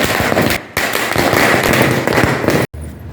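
Diwali firecrackers explode in a loud, rapid string of crackling bangs close by, running densely with two brief gaps and a sharp cutoff near the end.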